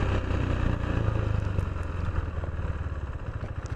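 A KTM Duke 390 BS6 motorcycle being ridden at low speed by a learner: a steady, close engine drone with a throbbing low rumble that holds even throughout.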